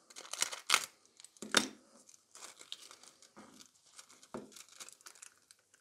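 Gold transfer foil for nail art is handled and crumpled in short, crisp bursts of crinkling, with quiet pauses between. Close and fairly soft, with no talk.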